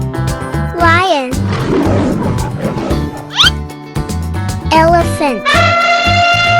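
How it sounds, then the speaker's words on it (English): A cartoon lion gives a roaring call over bright music and synthesized sound effects, mid-length and fairly loud, with other effects sweeping in and out around it. "lion"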